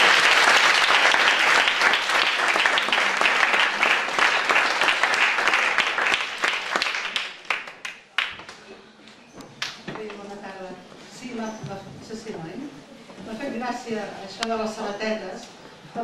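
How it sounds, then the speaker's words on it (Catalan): Audience applause at a library's 80th-anniversary tribute in Esparreguera: loud, sustained clapping from a crowd that fades after about eight seconds, followed by someone speaking. "un reconeixement i un fort aplaudiment"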